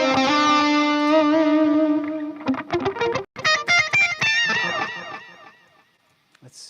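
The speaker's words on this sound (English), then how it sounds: "STL Tones Emissary. That's what I'm playing through right now." Electric guitar played through an STL Tones Emissary amp plugin, with a long sustained distorted chord that gives way to a run of choppy, rhythmic picked notes, loud and alone before fading out.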